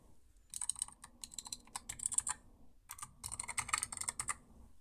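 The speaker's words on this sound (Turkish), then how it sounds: "Burada orijinal mekanik ışıklı mışıklı bir şey klavye. Çok güzel sese bakın." Close fast typing on a mechanical backlit keyboard, dense clacky keystrokes in two rapid bursts separated by a short pause, with no one talking.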